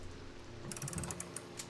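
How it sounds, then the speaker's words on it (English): A pulled clock mechanism in the game Strange Antiquities clicks and ratchets faintly, a quick run of small mechanical ticks and creaks over a quiet background hum. "I can pull the clock and things happen."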